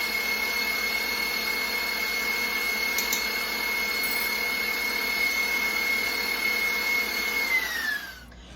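An electric mixer beating meringue whirs at a high, steady pitch for several seconds, then winds down as it is switched off.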